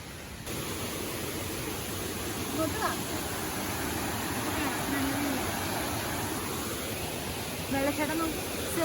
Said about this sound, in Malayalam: വെള്ളച്ചാട്ടം ചെറുത്